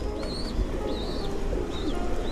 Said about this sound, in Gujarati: કબૂતરને તેઓ દાણા ખવડાવી રહ્યા છે